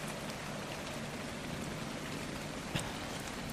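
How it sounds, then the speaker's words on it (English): Pouring rain falls at night on a mountaintop in the video game ARK: Survival, a soft, constant hiss of drops with one brief louder tap near the end, quiet and with no voices. "In the pouring ass rain in the middle of the night with wolves everywhere."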